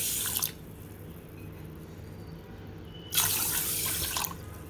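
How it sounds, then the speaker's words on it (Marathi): Water is poured into a pot of washed rice being prepared for rice flour, two short gushing pours separated by a quiet pause, close and splashy. "आता आपण यामध्ये पाणी घालून घेऊया"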